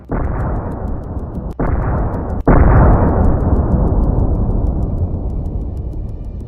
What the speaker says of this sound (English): a HIMARS precision strike destroyed it